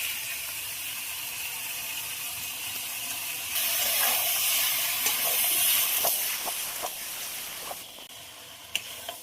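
Jackfruit and potato with spices frying in a pan, a steady hiss and sizzle that rises partway through, with occasional scraping clicks of stirring near the end.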